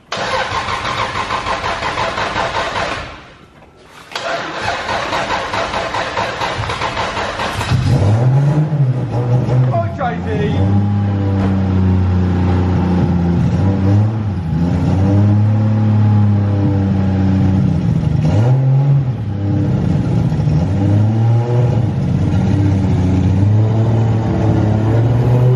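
A BMW E36 with a swapped 2JZ engine starts, settles into a steady mid-pitched idle, then pulls away and revs, its engine note rising and falling in several loud, close sweeps.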